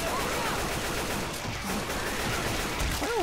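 Rapid gunfire in the zombie shooter Left 4 Dead 2 forms a dense, steady crackle of overlapping shots, loud and unbroken throughout the short burst.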